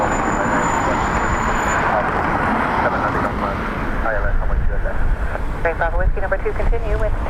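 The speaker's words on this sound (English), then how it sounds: "Ryanair from Luxembourg next to land" A Ryanair jet arriving from Luxembourg lands at a windy Dublin Airport, its engines a broad, steady roar heard at a distance under strong wind noise throughout.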